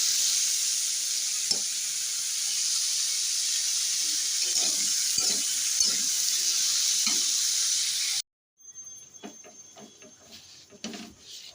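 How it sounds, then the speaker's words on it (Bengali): Pumpkin and potato pieces sizzle steadily in a pan for about eight seconds, a constant close hiss broken by soft stirring taps, before the sound cuts to quieter kitchen clatter. "সকালে কুমড়ো আলু ভাজা আর রুটি করছি"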